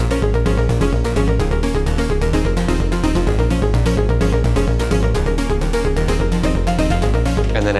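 Elektron Digitone 2 synthesizer playing a Streets of Rage 2 melody with a bassline added, a loud, dense and steady synth arrangement running continuously without talk.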